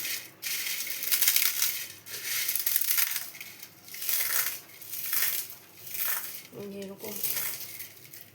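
A 10-taka packet of Kurkure snacks crushed into coarse crumbs by hand, giving loud, repeated crinkling crunches in rhythmic bursts, with a short spoken word near the end.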